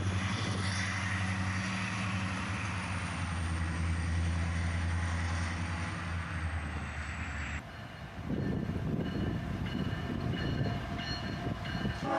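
A freight train arrives behind a single GE locomotive, its engine drone and low rumble holding steady before the sound shifts abruptly to a rougher, closer clatter of passing cars.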